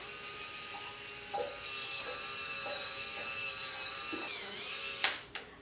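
Radiance Spin Care System electric facial brush whirring steadily with a continuous high motor whine, close up, ending in a few brief clicks and knocks as it is switched off.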